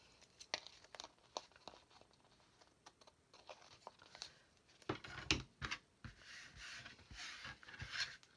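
Scissors trim the top edge of a handmade paper mini journal, giving quiet, close snips and crinkles of paper in an irregular series, growing a little busier toward the end.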